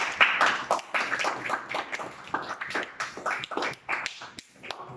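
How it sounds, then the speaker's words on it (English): Applause from a small audience at a Gavel Club public-speaking meeting in Dubai, close, uneven individual claps from a handful of people, loud at first and thinning toward the end. "I would request all of you to give a thunderous applause"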